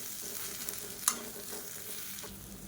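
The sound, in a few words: spices being sautéed and stirred in a pan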